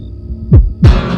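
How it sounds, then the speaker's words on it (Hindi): Two deep, thudding heartbeats about a third of a second apart, close and heavy against a faint hum. "धड़कन की आवाज धीमी पड़ने लगी।"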